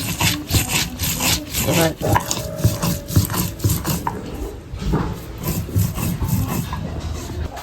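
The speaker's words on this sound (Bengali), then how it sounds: "লঙ্কাটা বেটে নিচ্ছি আগে" Green chillies ground into paste for mustard hilsa, likely on a grinding stone, with steady rough rubbing and scraping strokes repeating throughout, close and fairly loud, with a brief word spoken over it.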